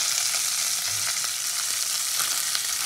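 Singhi fish frying in hot oil in a covered pan, giving a dense, steady sizzle with faint crackles throughout, close and continuous with no voices.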